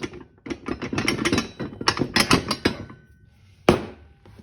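A ratchet wrench cranks down the nut on a John Deere steering drag link ball joint, giving a rapid run of close, loud clicking strokes, a pause, then one sharp final burst.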